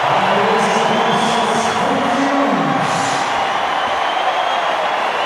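A cricket crowd cheers and applauds a batsman reaching his half-century during a South Africa vs Sri Lanka one-day international, a steady, dense roar of many voices that holds at a constant loud level throughout.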